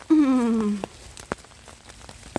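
Rain drips in a wet German forest in winter. A voice is heard briefly at the start, followed by a few sharp, separate drops tapping close by against a quiet background.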